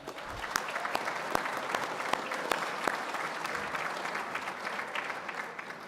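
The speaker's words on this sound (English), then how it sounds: "How about one more round of applause for all the safety winners tonight?" An audience applauds the safety award winners at an awards show for a drywall company, a steady wash of clapping with a few sharper, louder claps standing out and no talk over it.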